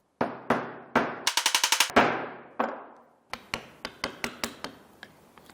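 A wood chisel struck by a mallet, chopping waste from a dovetail socket. Sharp, close knocks each ring out briefly, with a fast burst of rapid taps in between and a later run of evenly spaced blows.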